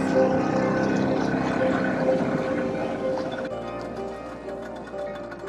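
A small two-stroke engine runs steadily at close range, a continuous buzzing drone that shifts slightly in pitch partway through, among boats in Saint Vincent and the Grenadines.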